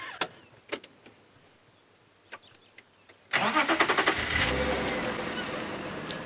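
A safari vehicle's engine starts abruptly after a few quiet clicks and knocks, then settles into a steady, fairly loud idle and revs as it moves off to drive.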